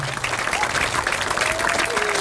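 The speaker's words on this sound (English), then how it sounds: "So if we could have a round of applause for the Squantum Building Committee as well." A round of applause at a groundbreaking and time capsule ceremony for a school building in Squantum, steady close clapping from a gathered audience with faint voices underneath.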